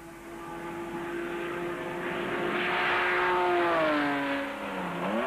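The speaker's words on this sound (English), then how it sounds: "the unmistakable song of 12 cylinders in full cry." A Jaguar V12 engine runs at a motor-industry proving ground, giving a steady, loud, droning roar. The pitch rises slowly, then sweeps downward near the end, with no voices over it.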